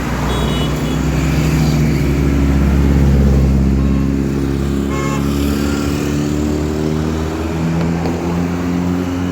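On a Mumbai street, a passing motorcycle's engine rumbles loudly and close by, swelling and then slowly easing off against traffic noise in the background. No one speaks.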